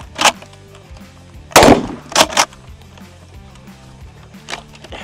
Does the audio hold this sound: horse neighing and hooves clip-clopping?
no